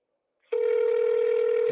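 A telephone line tone sounds while calling a U.S. senator's office: after brief silence, a single steady, loud buzzing ring tone starts and holds without break to the end.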